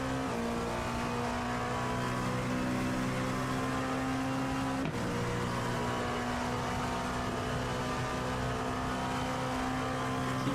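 Race car engine heard from on board in a Daytona endurance racing video game, a steady sustained drone with a held pitch, a brief shift midway, running loud and alone.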